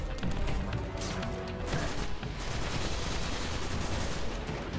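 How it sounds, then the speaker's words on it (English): Missiles slamming into the player in Destiny, a rapid barrage of loud crashing impacts and gunfire-like bursts over a few seconds, close and alone without speech. "the missiles."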